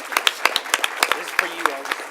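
Audience applause at a board meeting, a short burst of scattered hand claps with uneven rhythm, fairly close and moderately loud, under a faint murmur of room noise.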